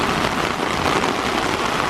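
Steady rain falling and pattering on surfaces outdoors, a dense, even hiss that is loud and close, with no other sounds.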